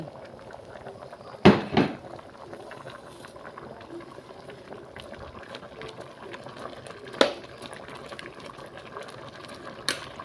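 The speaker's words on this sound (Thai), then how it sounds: "เดือดกันใหญ่เลยนะคะ" Broth boiling vigorously in a pot with mushrooms about to go in, a steady bubbling churn punctuated by a few sharp knocks of utensils against the pot.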